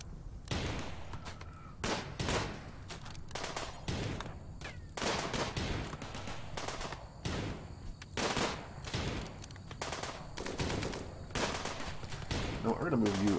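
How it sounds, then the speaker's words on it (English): Rapid bursts of gunfire crackle nonstop through a Rimworld firefight, dense overlapping shots at close range, with a voice talking faintly over the battle. "we're gonna move you out of the way of all the gunshots because this seems unhealthy right now"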